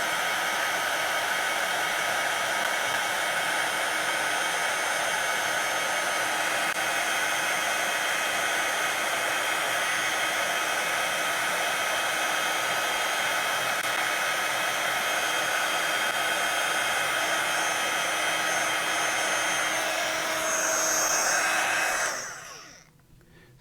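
A hair dryer blows steadily and loudly for about twenty-two seconds with a constant whooshing hum, then switches off and winds down abruptly near the end; no one speaks.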